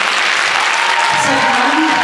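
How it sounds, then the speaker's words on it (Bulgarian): A hall audience at the closing of a folk dance festival applauds in a loud, continuous wash, with voices faintly mixed in. "Моля аплодисменти за тези, които"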